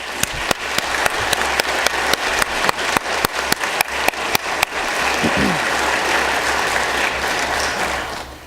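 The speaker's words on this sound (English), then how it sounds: "a round of applause for our family and friends here today for us" Applause from family and friends in the Oregon House chamber, a dense steady crowd clapping that carries on for the whole stretch, with a run of loud sharp knocks or taps over the first half.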